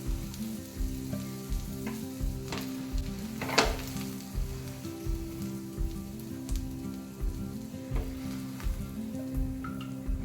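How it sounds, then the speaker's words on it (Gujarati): Pav bread roasts on a hot pan for Navsari-style pav batata, giving a continuous close sizzle with occasional crackles and stirring scrapes, and no talking. "હવે આપણે પાવને શેકી લઈએ."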